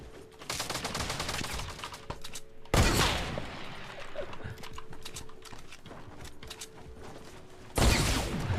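A new carbine fires in a video game, loud rapid volleys of shots bursting in clusters with mechanical clatter between them, close and punchy over a low game soundtrack.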